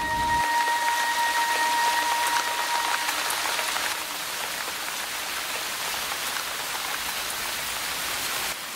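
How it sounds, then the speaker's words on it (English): Steady rain pours down onto hot rocks in a dense hiss of droplets, close and continuous, with a faint tone at the start and no voices. "Rain on hot rocks."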